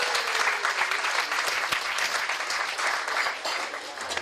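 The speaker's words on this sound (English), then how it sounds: "Please give him a round of applause." Steady applause fills a fundraising dinner for a Richmond Hill councillor candidate, a room full of guests clapping continuously and fairly loudly for several seconds.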